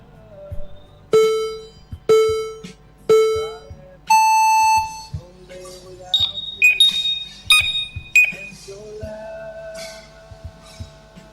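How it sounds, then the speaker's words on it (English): An FPV racing quadcopter arming at a drone race: a series of sharp electronic beeps, three evenly spaced tones, then a longer tone and a quick higher-pitched chirping sequence, with faint background noise. "Arm your quad and listen for the beep"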